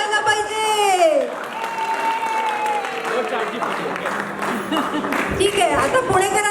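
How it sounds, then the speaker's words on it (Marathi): An audience at a Ganeshotsav trivia game applauds in a crowded hall, a continuous clapping wash running beneath a loud, drawn-out voice and other shouting voices. "अरे जोरदार टाळ्या व्हायला पाहिजे."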